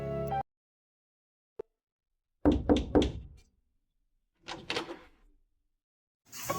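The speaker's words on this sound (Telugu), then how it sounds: "తలుపు కొట్టిన శబ్దం వచ్చింది." Knocking on a door, used as a sound effect in a ghost story: a short burst of several sharp knocks, a pause, then another cluster of knocks, close and clear against near silence.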